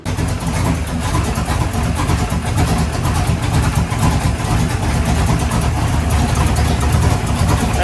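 A race vehicle's engine runs steadily after its fuel is turned back on, a loud, close, rough mid-pitched drone with a pulsing rumble and no talk throughout.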